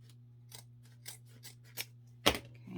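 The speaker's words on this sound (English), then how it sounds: "I'm going to cut right here" Scissors snip through wreath material in five short, separate cuts spaced about half a second apart, the last one loudest, over a low steady background hum.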